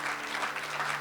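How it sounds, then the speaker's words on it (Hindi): A church congregation claps together in praise, a dense, steady wash of many hands filling the room for a brief moment without talk over it. "क्यों ना प्रभु के लिए ताली बजाए।"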